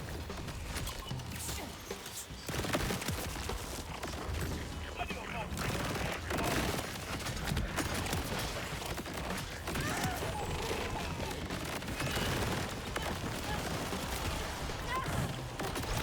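Plasma Coil Maliwan SMG from Borderlands 4 firing in rapid sustained bursts, dense crackling shots with game noise and someone talking over the gunfire.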